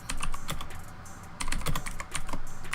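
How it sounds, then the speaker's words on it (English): Fast typing on a computer keyboard, close and crisp, in three quick bursts of clattering keystrokes separated by short pauses, with no voices. "More like that's a lot of typing."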